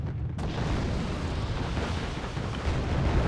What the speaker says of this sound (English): let's get the Roland 2 to fire